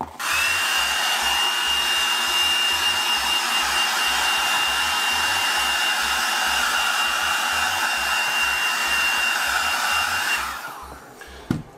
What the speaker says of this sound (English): Let's grab that heat gun again.